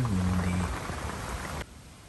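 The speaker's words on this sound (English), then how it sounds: "that sort of fine rain" Steady hiss of fine rain falling nearby, with a low tonal hum at the start and the wash abruptly quieting near the end.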